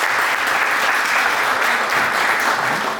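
An audience at an open banking panel breaks into dense, sustained applause, a loud, even wash of clapping that lasts throughout without voices standing out.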